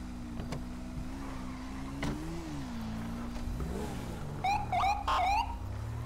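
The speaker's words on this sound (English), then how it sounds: "Oops, car locked." Car door locks engaging by remote with a motor whir, followed by three sharp electronic chirps from the car alarm near the end, over a low idling background hum.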